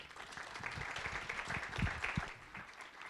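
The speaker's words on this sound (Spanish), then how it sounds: "Le damos un aplauso a Lupita." An audience at a panel on victims of violence applauds, a faint, steady patter of many hands clapping at a distance.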